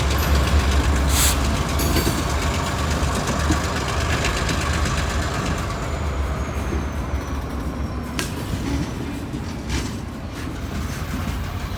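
Long freight train of hopper cars and gondolas rolling past at close range, a continuous loud rumble with heavy low-end drone, wheel clatter and occasional sharp squeals and clanks from the cars.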